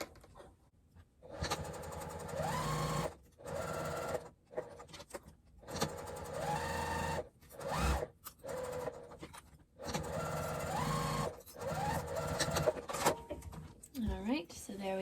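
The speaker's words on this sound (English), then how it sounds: "we'll just baste that in place with an 1/8 of an inch seam allowance" A sewing machine bastes a bag panel with an eighth-inch seam, running in repeated bursts of rapid mechanical whirring that stop and start between brief pauses, close and clear, with soft handling noises in the gaps.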